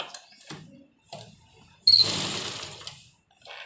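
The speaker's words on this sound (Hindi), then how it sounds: "तो यहाँ पर हम किनारे पर सिलाई देंगे" A sewing machine stitches narrow piping along the edge of a sleeve, running in one steady, close whirring burst of about a second after a few soft handling rustles.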